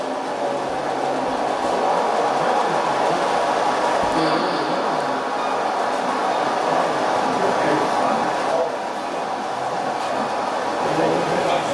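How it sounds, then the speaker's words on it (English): A small N scale model coal train rumbles steadily along its track under a bridge, a continuous clattering roar that stays loud and close for the whole stretch. "here comes the coal train underneath a bridge"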